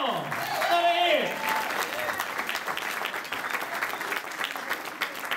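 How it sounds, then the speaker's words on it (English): A crowd at a jazz band concert claps and cheers briefly, with scattered applause continuing under a voice speaking over it. "Y'all give a wonderful round of applause."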